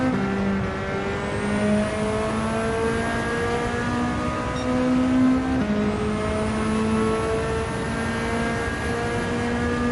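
A Nissan Silvia S13 with a swapped K engine drives in Gran Turismo 7, a steady buzzing engine drone that rises and falls in pitch through gear changes and throttle, loud and continuous with no talk.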